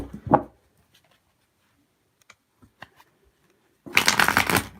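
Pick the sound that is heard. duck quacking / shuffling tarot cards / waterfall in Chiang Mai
shuffling tarot cards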